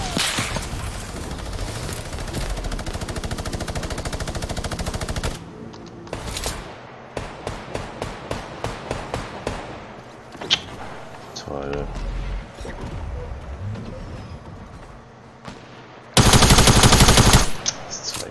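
Fortnite gunfire: a long burst of rapid automatic fire, then a run of separate loud shots spaced irregularly, and a final harsh blast near the end, with game noise and a voice talking in between.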